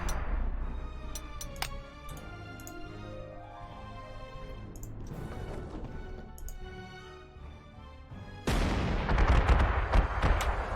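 Units fire in Panzer Corps 2, a World War II strategy game, with a heavy artillery boom near the end after a stretch of music and scattered sharp shots.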